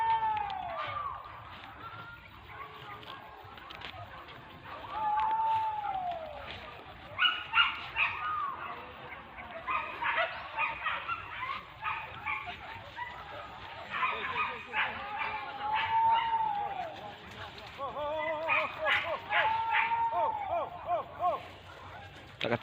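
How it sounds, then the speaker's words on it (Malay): Hunting dogs chase a wild boar through an oil palm plantation in Jambi, giving repeated yelping, whining barks at varying distances, with people shouting and talking throughout. "Anjing kejar tu nah."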